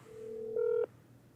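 A telephone on an outgoing call gives a single steady electronic tone that holds for under a second before cutting off, quiet and close, with no talk.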